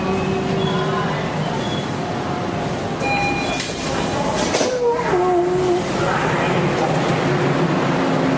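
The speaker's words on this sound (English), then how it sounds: "That completes our journey on the subway of Toronto." A Toronto subway train runs with a steady rumbling roar, close and continuous, with faint tonal whines and brief squeals.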